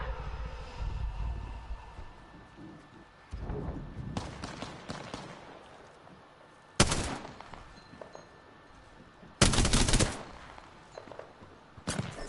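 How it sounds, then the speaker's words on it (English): Gunfire in the Apex Legends battle royale game: rapid automatic bursts and sharp loud volleys, with two especially heavy blasts standing out over a busy backdrop of in-game effects and occasional voice lines. "Someone's out there! I am taking fire."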